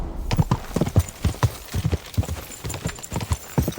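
A horse gallops in Kingdom Come: Deliverance II, its hooves pounding in a fast, steady rhythm of loud, close thuds that run throughout.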